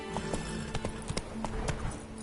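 Hoofbeats of Roach, the horse in The Witcher 3, clip-clop in a steady trot over a game background, several distinct thuds spaced through the short stretch.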